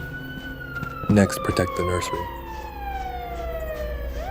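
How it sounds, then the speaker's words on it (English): A wailing siren in the horror video game GiggleLand sweeps slowly downward throughout, with a voice speaking briefly over it near the middle. "But why are the sirens blaring here?"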